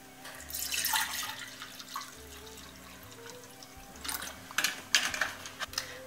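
Liquid is poured out, 500 ml for a hot grape juice, with a steady splashing stream followed by a few sharp drips and clinks, near and fairly loud.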